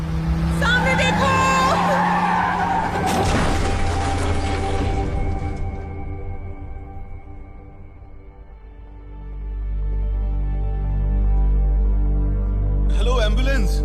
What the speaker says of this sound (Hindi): यहाँ कार एक्सीडेंट हुआ है।